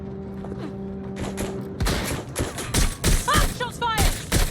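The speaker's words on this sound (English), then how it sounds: "Shots fired!" Gunfire in the Watch Dogs Legion video game: a burst of loud, close shots after a quiet stretch, several sharp cracks in quick succession with whooshing effects and a shout mixed in.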